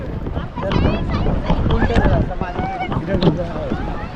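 A kayak is paddled on the sea near Gokarna as wind buffets the microphone, with water splashing in a choppy rhythm while people talk close by throughout.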